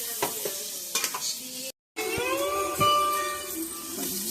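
Food being stirred and mixed in a pan while making wheat rava upma: close scraping and soft sizzling, with a brief moment of silence midway before the stirring resumes.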